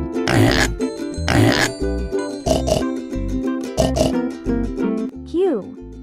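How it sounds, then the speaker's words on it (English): A pig oinks in a series of loud, close grunting snorts, several in a row with short pauses, over a bright musical backing, ending in a rising squeal-like sweep. "Pig."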